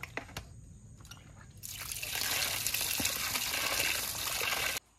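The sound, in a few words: water dripping while washing cut rohu fish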